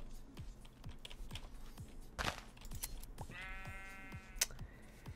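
Sheep bleats from the Minecraft video game, two short wavering calls heard over rapid computer keyboard typing and clicks, fairly quiet overall.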